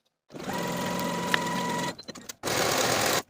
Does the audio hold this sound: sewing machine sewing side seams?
yes